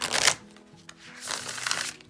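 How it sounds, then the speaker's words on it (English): A tarot deck with slightly short, semi-gloss cards being riffle shuffled up close, with two bursts of fluttering card riffles separated by a brief quieter pause. "So I can riffle shuffle it."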